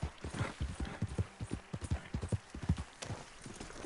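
Horse hooves clip-clop in a video game in a brisk, even rhythm of close, distinct strikes, with a faint whinny-like tone at one point.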